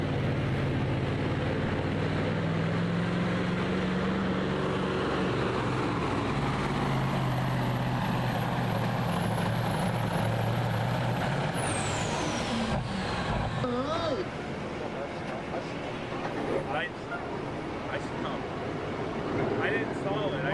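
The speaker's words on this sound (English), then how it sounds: "Our final truck of the night out of Andover, New York, Caleb Mills gettin" A pulling truck at a county fair truck pull roars at full throttle under a high whine, then the engine note drops off and fades, while an announcer talks throughout.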